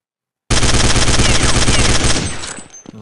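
Rapid automatic gunfire from Counter-Strike 1.6 starts abruptly and rattles loud and close for about two seconds, then cuts off into a fading reverberant tail with a few scattered clicks.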